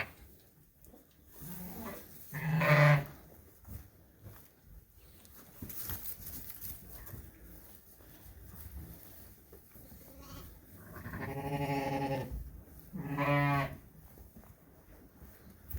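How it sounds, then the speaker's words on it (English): Newborn lambs in a busy lambing barn let out several bleats, a couple of short cries and then a longer wavering call, close by over quiet barn background. "Those are the 2 lambs that were born an hour ago."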